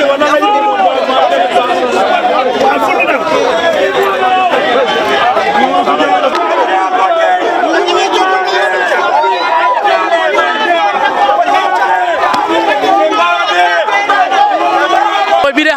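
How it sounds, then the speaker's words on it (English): A large, angry crowd gathered at a police station roars continuously and densely, with many overlapping raised voices, shouting and babble, loud and close throughout. "a large crowd of angry mob converged on the station"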